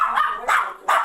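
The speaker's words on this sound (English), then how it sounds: "Those little dogs can be loud when they want to be, and they're great guard dogs." Small dogs bark sharply three times in quick succession, close and loud, with short yappy high-pitched barks and no talking.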